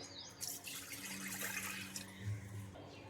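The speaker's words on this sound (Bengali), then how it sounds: "2 কাপ পরিমাণ জল দিয়ে দিলাম।" Water pours into a pressure cooker for a paat saag (jute leaf greens) recipe, a soft, steady splashing stream that stays faint and continuous throughout.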